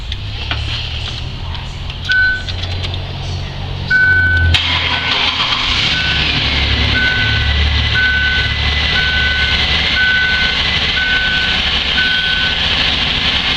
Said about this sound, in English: And you see the way it idles a little high?